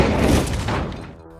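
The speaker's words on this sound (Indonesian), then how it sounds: "sesaat setelah Kwan keluar dari kantor Liam, bom itu meledak." A deep, booming blast with heavy low rumble that fills the moment, then tails off into a fading roar.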